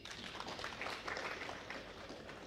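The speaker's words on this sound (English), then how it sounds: "Can we please give a round of claps to Derek?" Conference audience applauding a welcomed presenter, a steady dense wash of many hands clapping, moderately distant and fairly even throughout.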